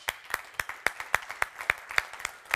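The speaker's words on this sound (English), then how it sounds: "Please give him applause." A small audience at a tech conference gives sparse, rhythmic clapping for a speaker, with distinct individual claps close and clear and no talking.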